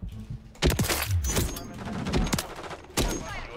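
Gunfire from the video game Call of Duty Modern Warfare 3 comes as rapid, close bursts of shots, with sharp cracks repeating in quick succession and a brief lull before a final loud burst.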